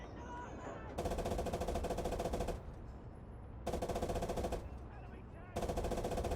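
Shells fire in a World War II battle game set at Arnhem in 1944, heard as three separate spells of rapid, dense bursts with quieter gaps between them, fairly faint overall.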